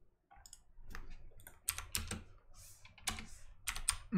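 Rapid, irregular clicking of keys on a computer keyboard, close by and fairly quiet, with bursts of keystrokes separated by brief pauses; no speech.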